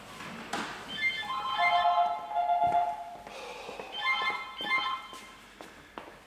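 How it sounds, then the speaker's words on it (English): A phone ringtone plays a bright, bouncy electronic melody in two repeating phrases, close and clear in a quiet garage. "something needs to be done about that bloody ringtone"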